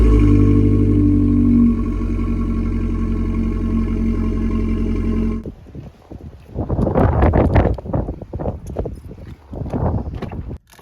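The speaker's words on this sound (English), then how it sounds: "It's super windy" A steady engine hum from an Abarth car gives way to gusty wind buffeting the microphone in loud, irregular rushes.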